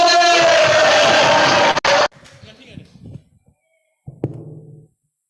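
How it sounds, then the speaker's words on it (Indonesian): Audience at a Christian prayer gathering applauds and cheers to welcome a speaker, a loud, dense burst lasting about two seconds that cuts off abruptly into quiet murmurs and a brief voice. "tepuk tangan buat Tere"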